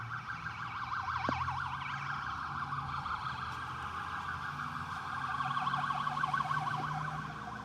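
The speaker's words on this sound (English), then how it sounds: "Is that the new cop siren?" Police car siren sounding at a moderate distance, a wailing, warbling electronic tone that cycles rapidly and persists throughout with traffic rumble beneath.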